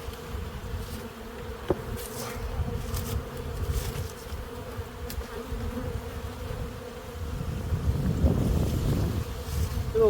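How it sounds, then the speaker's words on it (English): Honeybees in an opened spring hive hum continuously and close by, a dense steady buzz that swells louder toward the end, with light wind noise over the microphone. "Little bees down there."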